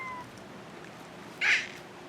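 A cat, a newly arrived house cat, gives a single short meow at moderate distance against a quiet room background.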